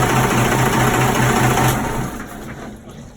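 A Cummins 6BT diesel engine with low compression, running rough on three cylinders, drones steadily close by with an uneven pulsing idle before the note drops away as it shuts down.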